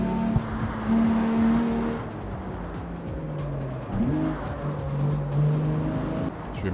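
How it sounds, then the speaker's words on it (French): A Lamborghini Diablo driven flat out in the video game CarX Street, its engine giving a steady, moderately loud drone with shifting pitch and a brief rise midway, with no talk over it. "On va juste rouler à fond histoire de voir un peu le comportement de la Diablo."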